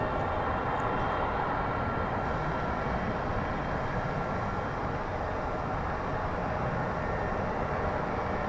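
Embraer 175 regional airliner taking off at DFW Airport, a steady, broad engine roar heard from a distance that holds at an even level throughout, with no voices.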